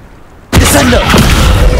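A Descendo slam spell cast in the video game Hogwarts Legacy hits after a half-second of quiet as a sudden loud boom, followed by a sustained crashing, rumbling impact wash.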